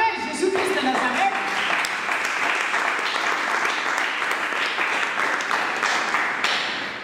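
Church congregation at a gathering in Gatineau, Canada, bursts into loud sustained applause with cheering, dense clapping holding steady for several seconds before easing at the end.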